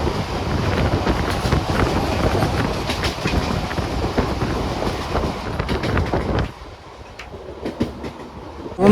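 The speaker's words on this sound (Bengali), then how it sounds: "এখন আমাদের ট্রেনে এসে পৌঁছালো জামিরঘাটাতে" Passenger train pulling into Jamirghata station in Malda district, with loud rolling rumble and rhythmic wheel clatter under wind buffeting that drops off sharply as the train slows, with no talk.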